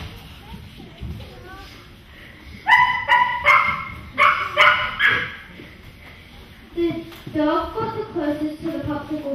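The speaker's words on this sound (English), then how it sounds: "Suddenly, he was spotted by a dog. The dog began to chase after Popsicle Boy." A dog barks repeatedly on a playground, bursts of loud yips and barks coming in clusters with short gaps, mixed with whimpering sounds, against faint background noise.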